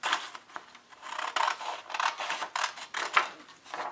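Scissors cutting out fabric pieces for a Bear Paw quilt block make a series of close, crisp snips and rustling fabric scrapes in an uneven rhythm, with no talking.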